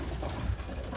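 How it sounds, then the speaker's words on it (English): Pigeons in a loft give a low, steady coo mixed with soft rustling, a close and continuous murmur with no talk over it. "I gotta feed the birds"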